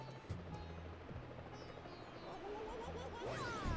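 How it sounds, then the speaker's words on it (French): Mario's helicopter spin in Super Mario Galaxy, a whirring rotor-like drone with rising, warbling sweeps in game music, moderately faint. "Mario hélicoptère."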